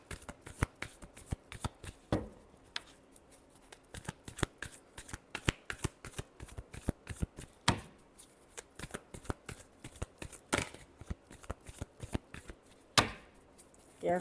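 A tarot deck is shuffled by hand in rapid, close riffling bursts, dense crisp card flicks repeating steadily for the whole stretch, with a few louder slaps between rounds.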